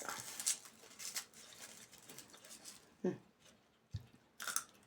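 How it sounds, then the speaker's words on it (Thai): Isan sausage eaten with raw garlic gives moist chewing and crunchy bites, close and fairly quiet, with a few sharper crunches near the end. "กระเทียมนะกระเทียมดิบกินเลย"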